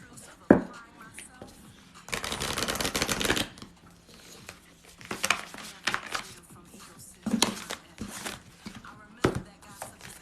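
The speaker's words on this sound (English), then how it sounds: "Larissa, I feel like I have to reshuffle" A tarot deck is shuffled by hand during a reading, with bursts of soft riffling and card slaps separated by pauses and light handling knocks, close and fairly quiet.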